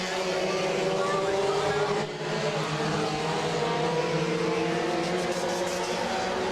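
Pure stock race cars roar around Monadnock Speedway in a dense, continuous engine drone, several cars droning together at steady volume with a short dip partway through.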